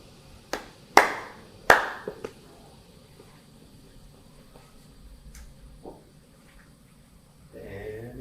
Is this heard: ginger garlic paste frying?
no